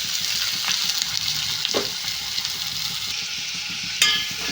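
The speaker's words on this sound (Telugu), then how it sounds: "ఇప్పుడు ఉల్లిపాయలు అయితే ఫ్రై చేస్తున్నాను" Onions and green chillies frying in hot oil: a continuous close sizzle with occasional stirring clinks, one sharper scrape near the end.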